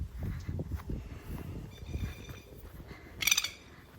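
Plovers nesting on top of a large farm shed give a short burst of sharp, high calls late on, over a background of rustling, thumping movement close by.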